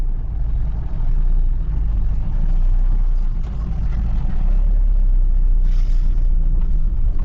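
A pickup vehicle edges slowly out through the crowded Chunar market, its engine a steady low rumble close by, with constant traffic and street noise around it and no pauses.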